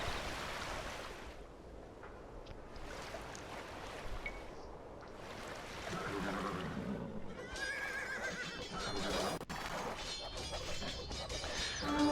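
Horses in Age of Empires 2 whinny and neigh repeatedly amid game sound effects, including water and clattering noises, with louder calls toward the end.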